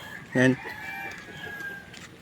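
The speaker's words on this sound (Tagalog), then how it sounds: "So ito yung isang hen." A hen gives one short, loud cluck near the start, then only a quiet background with a faint steady tone remains.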